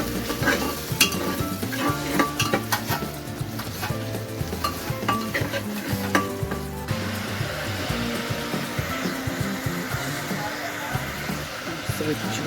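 Chicken frying directly in oil in a pressure cooker with bay leaf and salt, a steady close sizzle with stirring clatter of a utensil against the pot, with talk over it.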